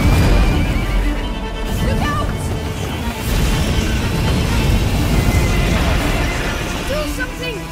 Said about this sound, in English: The horse is running.